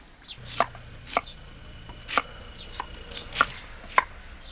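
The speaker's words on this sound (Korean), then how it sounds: "고구마 써는 소리였다고 합니다." Sweet potatoes being chopped by hand on a cutting board, sharp knife strikes at an uneven, unhurried rhythm, about six distinct chops, close and fairly quiet with no talking.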